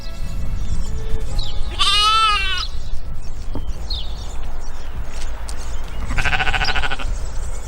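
Sheep bleat on the open Shetland islands, two loud, wavering calls several seconds apart over a constant low rumble of wind.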